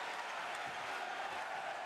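Basketball arena crowd during a Basketball Champions League game between Szolnoki Olaj and Besiktas: a steady, dense roar of many voices cheering at even loudness, distant and unbroken.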